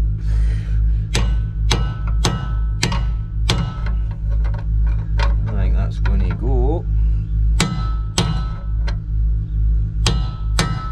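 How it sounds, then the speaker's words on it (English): Hammers are swung and strike metal during a stubborn repair job, a steady series of sharp, loud clanks spaced about a second apart over a constant mechanical drone, with a voice briefly heard. "Swinging hammers."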